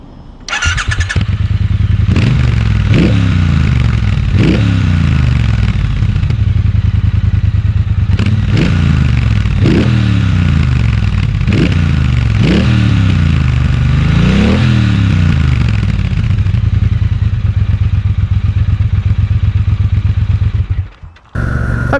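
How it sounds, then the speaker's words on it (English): A 2018 Triumph Speedmaster motorcycle with standard pipes, recorded outdoors nearby. The engine cranks and starts, then gives a series of about eight loud, deep revs that rise and fall. It settles into a steady rumbling idle before cutting off at the end. "Okay, so this is what she sounds like from the outside."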